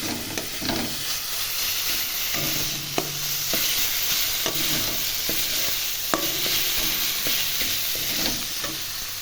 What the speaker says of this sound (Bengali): এখন মাছটা ছেড়ে দিলাম ভাজা ভাজা মাছটা হয়ে গেল দেখো